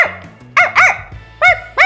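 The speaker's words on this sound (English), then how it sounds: "Bark is what the sound a dog makes." A dog gives four sharp, close barks in two quick pairs, each bark a short bright yelp, with a low steady tone sounding faintly underneath.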